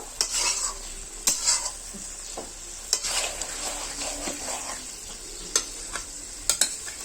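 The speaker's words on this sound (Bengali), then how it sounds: "ভালো করে এবার কষে নেব।" Desi country chicken sautéed in very little oil in a pan in a Bengali village kitchen, with a steady sizzle broken by sharp scrapes and clinks of a spatula stirring the meat, close and fairly loud.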